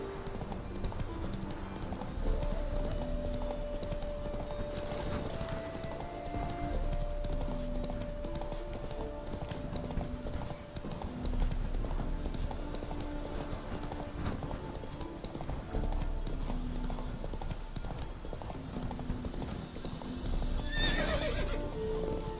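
Roach the horse trots in The Witcher 3 with a rhythmic clip-clop of hooves throughout, accompanied by a whinny and background game music.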